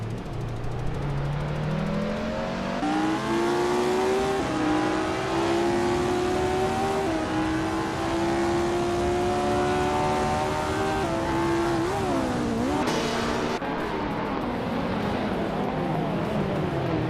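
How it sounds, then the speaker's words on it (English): Race cars in a video game race accelerate and overtake, engine tones climbing steadily through the gears in one continuous, loud drone with a brief shift near the end. "Lian Yashin just overtook someone to take 3rd place."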